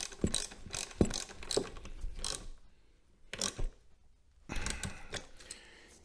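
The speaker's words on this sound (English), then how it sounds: "Now we tighten these nuts up." Nuts and bolts are tightened on a Can-Am Spyder F3T motorcycle during backrest and seat cushion installation, with quick bursts of close ratchet clicking separated by short pauses.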